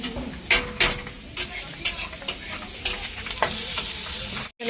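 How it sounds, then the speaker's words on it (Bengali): Potatoes and onions sizzle and fry steadily in a pan for a homemade biryani, with repeated sharp scraping and stirring strokes over the continuous hiss and a brief dropout near the end. "পেঁয়াজটা ভাজা হয়ে গেছে আর এখানে এখন আলু ভাজি"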